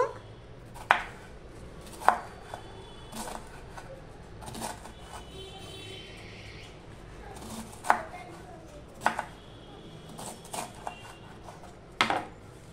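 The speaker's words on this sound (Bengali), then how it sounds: "ঠিক এইভাবে আমি বাঁধাকপিগুলো কেটে নিচ্ছি" A knife chops cabbage into small pieces on a board, sharp, uneven chops spaced a second or two apart with softer cutting sounds between them, close and fairly quiet, with no speech.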